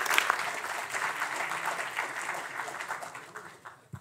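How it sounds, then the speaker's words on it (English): An audience at an academic symposium applauds to welcome a speaker from a school of management, a steady wash of many hands clapping that holds for about four seconds and then thins out toward the end. "So welcome and a big applause."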